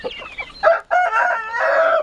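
Several Rize Indian chickens cluck and squawk in short bursts, fairly close, with a rooster-like crowing call rising toward the end.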